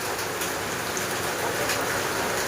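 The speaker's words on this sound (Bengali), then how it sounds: "বাইরে তো বৃষ্টি হচ্ছে দেখো" Steady, dense rainfall patters outside, a constant hiss with no breaks and no voices.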